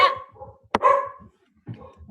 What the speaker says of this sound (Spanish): Mi perrita se pone nerviosa.